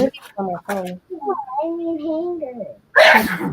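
One short, sharp sneeze near the end follows someone talking, close and loud.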